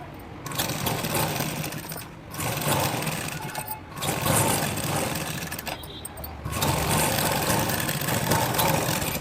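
A sewing machine runs steadily through a top stitch on a Punjabi-style dress, its fast whirring hum close and continuous with only short pauses between bursts of stitching.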